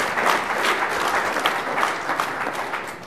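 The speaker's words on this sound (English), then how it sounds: "Let's give Yaktrack a round of applause" A tech conference audience applauds a presenting team called Yaktrack, a full, continuous burst of clapping from a large crowd, steady and moderately loud throughout.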